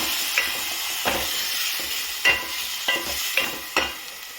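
Onions and tomatoes fry in a kadhai for a dhaba-style mixed vegetable sabji, stirred with six or so distinct scraping strokes over a continuous hissing sizzle and no talking.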